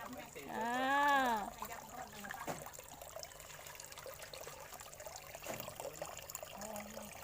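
Water trickles steadily from a frog-shaped spitter fountain into a backyard fish pond, a soft continuous dribble that sits under nearby conversation and a brief squeaky sound at the start.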